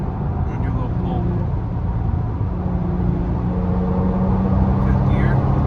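2026 Genesis G70 Sport accelerating hard, a steady, loud engine drone from inside the cabin with a rising tone and no break.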